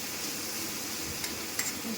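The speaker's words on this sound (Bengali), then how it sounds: "এটাকে একটু ঘন ঘন নাড়তে হবে," Chopped tomatoes fry in ghee butter while being stirred, giving a faint, steady hiss of sizzling with a couple of soft spoon taps against the pan.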